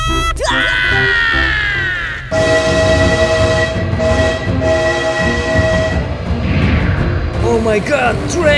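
A train rolls past in the BeamNG.Drive driving game, a loud continuous rumble with a horn-like tonal blast at the start and rail clatter throughout, while a person shouts excitedly over it.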